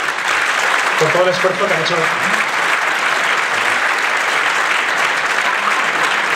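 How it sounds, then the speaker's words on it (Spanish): Audience at a jota album presentation applauds the singers with a steady, dense wash of clapping that fills the whole stretch, while someone speaks over it at first. "les quiero mandar un aplauso fuerte"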